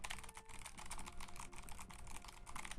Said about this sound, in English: to like this typing sound